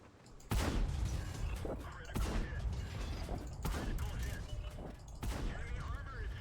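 Four heavy cannon shots from a TVP T 50/51 tank in a battle game, each a loud booming blast spaced about every one and a half seconds, with a rumbling tail between them.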